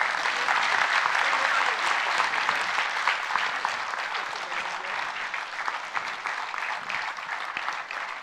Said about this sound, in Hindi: जोरदार टाळ्या वाजवूयात आपण